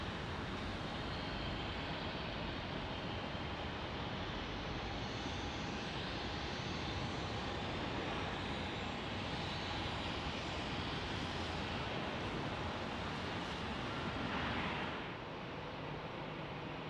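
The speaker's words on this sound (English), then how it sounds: "Here's an Embraer E175 inbound from Phoenix." An Embraer E175 jet airliner inbound from Phoenix to Salt Lake City: steady, loud, broad jet engine roar holding throughout, easing slightly at the end, with no voices.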